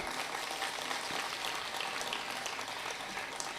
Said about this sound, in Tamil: எல்லாரும் சேர்ந்து கைத்தட்டும் போது எவ்வளோ சந்தோஷமாக இருக்குது